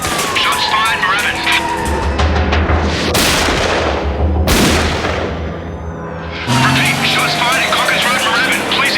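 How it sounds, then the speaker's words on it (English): Gunfire in a crime drama film scene: loud, sharp shots ring out amid booming blasts and engine noise, with voices shouting in between. "Frank, they're shooting at him!"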